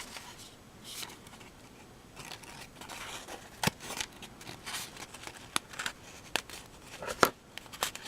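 Scissors snip through Christmas cracker paper in a series of crisp, irregular cuts, close and fairly quiet, with soft rustling of the material between snips.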